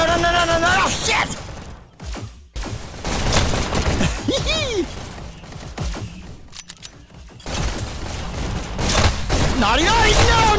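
Gunfire in the fast VR shooter game Hyper Dash, dense bursts of shots and electronic weapon effects with whooshing sweeps, mixed with excited shouting from a player throughout.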